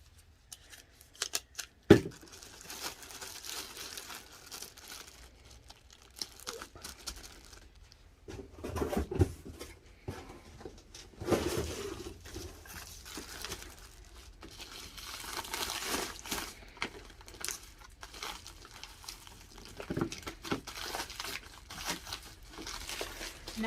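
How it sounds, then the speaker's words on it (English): Packaging a sold thrifted item for shipping: crinkling wrap, tearing, and snipping sounds come in irregular bursts with quiet gaps, handled close by over about twenty seconds. "Then I'm going to package this baby up."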